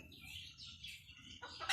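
A chicken gives a few short clucks close by in a quiet rural yard, ending in a sharper, louder call.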